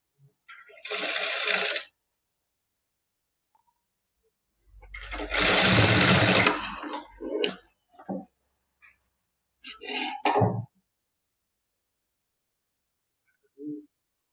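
A sewing machine stitches a princess-cut back in short separate bursts, a long run near the middle and briefer spurts after it, with silent gaps between.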